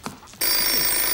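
A telephone on a children's television set starts ringing abruptly after a brief quiet moment, a loud sustained bell-like trill.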